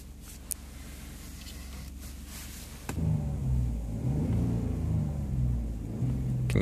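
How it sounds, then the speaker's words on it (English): Engine of a 2015 Ford F150 pickup starts with a click and settles into a steady low idle rumble, fairly close and unaccompanied by talk. "Can you hear that engine?"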